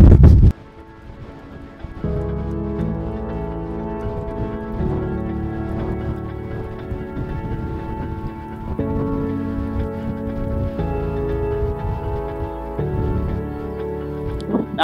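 Steady, gusty wind roars across the microphone on a chilly hillside walk in the Lake District mountains of Wasdale near Scafell Pike, loud and continuous throughout with a low rumbling buffet and no speech.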